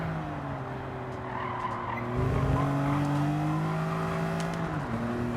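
A BMW Z4 in Gran Turismo 7 runs a time trial, its engine droning and rising and falling in pitch through shifts, with tires squealing and skidding under hard braking, steady and close with no talk.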